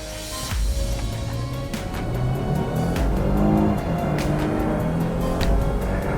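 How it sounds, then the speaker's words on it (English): A 2016 Lexus IS 300 F Sport with all-wheel drive accelerating on a wet road, a steady engine hum rising in pitch as it builds speed, heard from inside the cabin with tire and road noise underneath. "I really like the hum that is coming back into the cabin."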